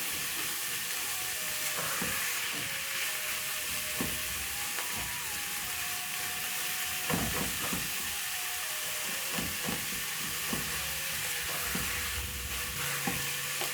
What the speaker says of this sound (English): As the meat cooks, I'm going to be using my spatula to break it down.